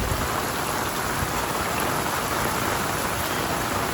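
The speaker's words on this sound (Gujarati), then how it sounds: "વરસાદ જો આમાં પાર્કિંગમાં પાણી પડી" Steady, heavy rain pours down continuously, a dense broadband hiss of water hitting surfaces with no pauses or voices.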